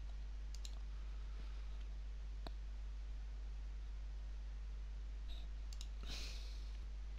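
Sparse, faint mouse clicks at a computer running Houdini 3D software, a few isolated taps and a short double click standing alone over a steady low hum and hiss.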